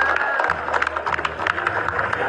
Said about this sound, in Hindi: आप लोग तो ताली पहले बजाओ